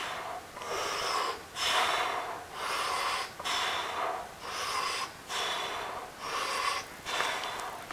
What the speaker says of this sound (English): breathing in on the way down, breathing out on the way up